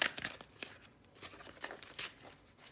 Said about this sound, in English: you want to use some scissors to cut in a little bit and tear away this stabilizer.